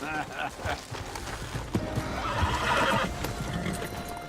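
A horse whinnies and its hooves clip-clop steadily as it is ridden in the video game Red Dead Redemption 2, with voices talking over the ride.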